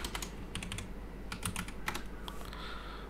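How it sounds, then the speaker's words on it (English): Rapid, steady keystrokes on a laptop keyboard, with short bursts of clicks separated by brief pauses. The typing is close and clear over a low background hum, with no voices. "if I simply type ollama"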